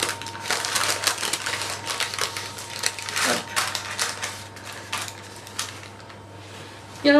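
Crisp, repeated scraping cuts as a knife trims excess pastry dough from a tart tin for a Normandy apple tart, close and steady, with small taps along the way.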